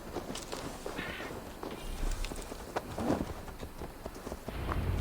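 Horse hooves clip-clop at a walking pace on hard ground in Assassin's Creed Valhalla, irregular soft thuds, fairly quiet amid faint background noise.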